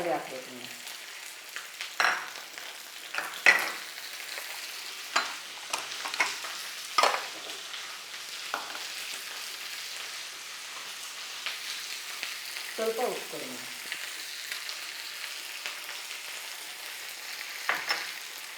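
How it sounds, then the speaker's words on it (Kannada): Capsicum with dry red chillies and curry leaves frying as a tempering in a pan, a quiet sizzle punctuated by intermittent spatula scrapes and clinks throughout. "ಕ್ಯಾಪ್ಸಿಕಮ್ ಒಗ್ಗರಣೆಗೆ ಹಾಕೊಳ್ಳೋದು"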